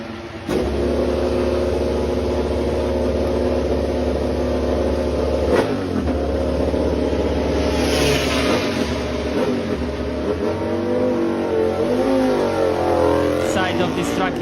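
An Aprilia RS-GP MotoGP prototype engine drones loudly and steadily, its tone rising and shifting as revs change, with a voice talking over it throughout.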